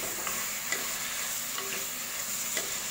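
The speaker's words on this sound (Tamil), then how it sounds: "தண்டு வந்து நல்லா எண்ணெயிலே வதங்கணும்" Chopped banana stem, onion and tomato sauté in oil with a constant bright sizzle, and faint periodic scrapes of stirring come through. No voices.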